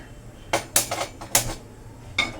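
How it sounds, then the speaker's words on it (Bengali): A frying pan set on a gas stove gives several sharp metallic clanks and knocks, close and separate, over a quiet background. "ফ্রাইং প্যানটা বসিয়ে দিলাম"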